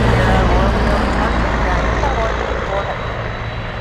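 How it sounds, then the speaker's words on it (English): A Boeing 747 cargo jet spools up its engines for takeoff at Anchorage, a loud, steady broadband roar that holds strong and then eases slightly, with nearby traffic-like rumble blending in. "I hear the 747 spooling up."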